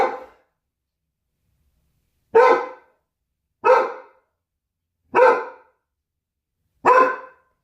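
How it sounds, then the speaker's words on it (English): A dog barks at someone walking up to the door, four separate loud, sharp barks spaced a second or two apart, each standing alone in a quiet room. "my dog is barking because the male person is walking up to my door"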